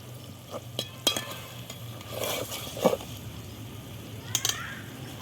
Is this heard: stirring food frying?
yes